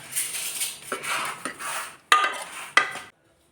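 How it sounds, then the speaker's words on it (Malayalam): Papaya and sweet potato mixed with coconut oil being stirred in a pot with a metal spoon: soft scraping strokes followed by two sharp clinks against the rim, close and fairly loud, then silence. "വെളിച്ചെണ്ണയും കൂടി ചേർത്ത് ഇത് നന്നായിട്ട് നന്നായിട്ടൊന്ന് ഇളക്കണം"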